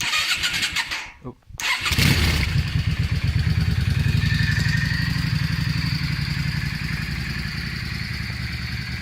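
A Yamaha Dragstar 650 bobber motorcycle cranks and fires up after a short pause, then settles into a loud, steady, rumbling idle close by, with a brief voice at the start.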